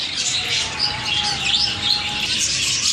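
A budgerigar breeding pair that has just raised its first chicks chirps inside a cage, a steady bed of close, high tweeting and chatter that runs without a break.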